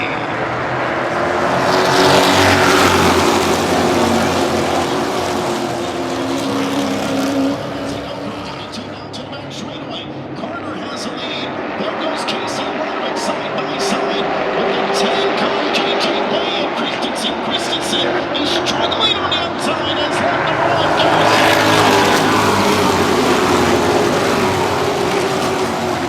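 Pro Truck race trucks roar around the track at the 55th annual Snowball Derby, engines swelling loud as they pass close, easing slightly, then building again, with an announcer talking over the noise throughout.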